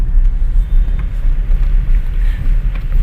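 A car drives during a gear-shifting lesson, its engine a steady low rumble with road noise, close and fairly loud, with no talk heard.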